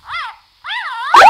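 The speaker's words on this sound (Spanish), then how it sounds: "¡Nació el primer cachorro!" A newborn puppy in a cartoon gives high, wavering whimpers, two short whining cries separated by a brief pause, with the second one ending in a louder, shriller yelp.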